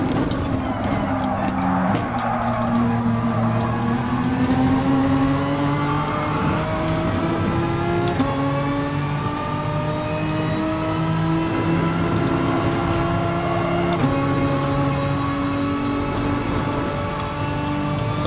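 Racing car engines in Gran Turismo Sport at the Nürburgring GP, several engines droning and shifting pitch as they rev and change gear, loud and continuous, with a Supra among the pack.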